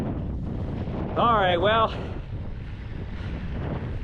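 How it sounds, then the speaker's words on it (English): Strong crosswind gusts roar steadily across the microphone outdoors on Nebraska's Cowboy Trail rail trail during a bike ride, a constant buffeting rumble, with someone briefly speaking over it. "if the wind stays a crosswind"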